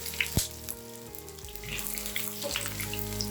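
Onion and garlic frying in hot oil for a Filipino sweet and sour fish escabeche sauce, with a soft, steady sizzle, a couple of sharp clinks and a faint background hum.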